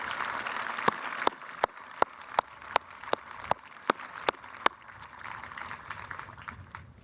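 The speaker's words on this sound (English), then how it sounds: "Please join me in a round of applause for Mike" Graduation ceremony crowd giving a round of applause, soft diffuse clapping from a distant audience with a few sharp individual claps standing out, fading toward the end.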